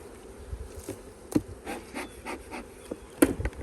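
Honey bees buzzing around hives during nuc making, a close, steady insect drone with a few sharp knocks and bumps from the hive equipment, with no voices.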